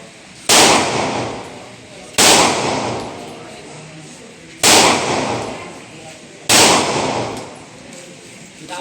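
Four loud gunshots from a gun being test-fired, each a sharp crack with a long ringing decay, spaced about two seconds apart, close by.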